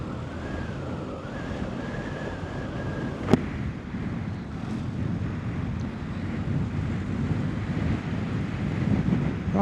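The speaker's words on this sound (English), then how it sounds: "surprising how windy it is out here" Steady, loud wind rushing and buffeting outdoors, a broad roar throughout with a brief sharp click partway through.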